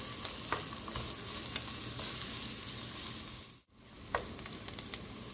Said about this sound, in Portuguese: Agora a gente vai acrescentar uma cebola média picada e deixa fritar um pouquinho.